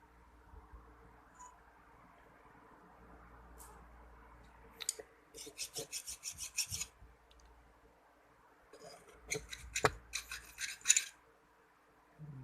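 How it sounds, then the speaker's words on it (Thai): Filing on a water-hardened steel wrench: two bursts of rapid rasping strokes, dry and scratchy, close by, separated by quieter handling and small clicks. "เราเราลองตะไบดูของที่ว่าชุบแข็งด้วยน้ำ"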